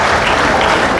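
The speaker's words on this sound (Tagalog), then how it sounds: "Palakpakan natin ang Panginoon." A church audience claps together, a dense, steady burst of applause that fills the room, loud and close with no voices over it.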